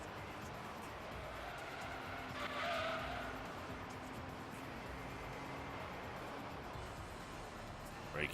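Honda NSX braking in the video game Gran Turismo 3, a brief tire squeal rising around the middle over a continuous engine drone, fairly faint and without speech.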